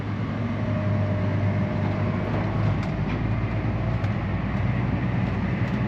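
A farm tractor climbs a hill pulling a small, light load, its engine droning loud and steady throughout with a constant low rumble and no talk.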